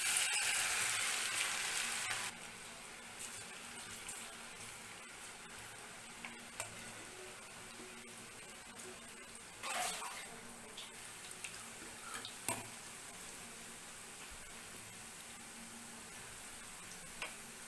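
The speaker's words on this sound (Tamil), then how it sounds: "நம்ம இப்போ இந்த தூள் பஜ்ஜியை வந்து நல்லா இப்படி உதுத்து விட்டு போடணும்." Crumbled onion pakoda batter frying in hot oil, a steady bubbling hiss with small ticks and pops. Louder for the first two seconds, then settles into a quieter continuous sizzle with occasional sharper crackles.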